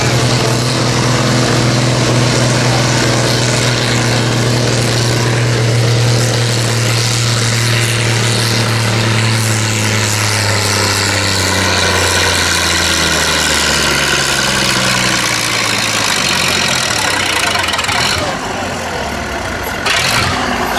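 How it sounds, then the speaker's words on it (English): A Minneapolis Moline tractor at a tractor pull roars loud and steady under heavy load, its engine note sliding slowly downward as it works, with a sputtering RPM limiter, close and continuous throughout. "Now some of these tractors seem to sputter, and that's because they have an RPM limiter on them."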